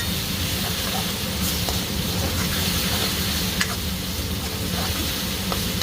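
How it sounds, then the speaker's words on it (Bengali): Ginger garlic paste and onions frying in oil in a pan give a steady, continuous sizzle with occasional stirring scrapes, close and fairly loud throughout, with no talk. "পেঁয়াজের সাথে সাথে আদা রসুনের পেস্টটা ভাজা হয়ে যাবে।"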